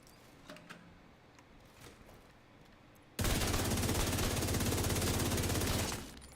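Rapid automatic gunfire from a weapon in a Destiny-style shooter, a dense, loud, continuous burst beginning abruptly midway and running about three seconds before cutting off, following quieter game ambience.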